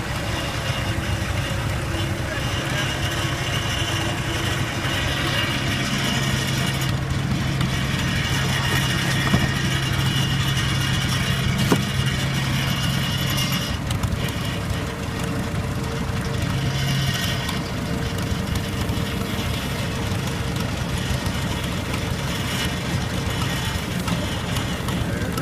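An old Farmall tractor engine runs steadily at a constant low rumble throughout, with faint background noise and no clear speech.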